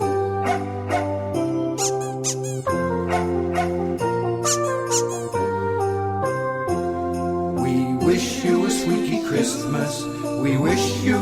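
Squeaks from a dog toy ring out repeatedly in rhythm with a festive Christmas tune, the squeals bright and close, joined by busier layered squeaking in the last few seconds.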